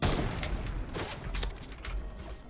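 Video game gunfire crackles in rapid, irregular bursts of sharp shots, some closer and louder, others further off, continuing throughout without voices.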